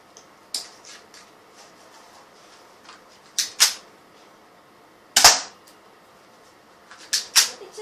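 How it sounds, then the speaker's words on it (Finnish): Pistol shots ring out outdoors as the rest of a magazine is emptied, sharp cracks spaced irregularly, several in quick pairs, loud and close against a quiet background. "Ja nyt voitais ampua lopun lippallisen tällä"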